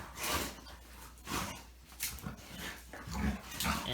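A young Dogo Argentino, about thirteen months old, whimpers and whines in repeated bursts close up, with a few low growly undertones mixed in and no talking.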